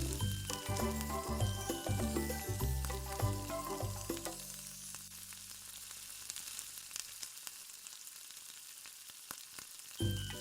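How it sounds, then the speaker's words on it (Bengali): Chicken rezala sizzles and crackles loudly in a pan just after water is added, with stirring clatter and tonal background music; the music drops out midway, leaving a steady close sizzle that swells again at the end. "জলটাকে দেওয়া মাত্রই তোমাদের রেজালাটাকে ভালোভাবে কষতে হবে"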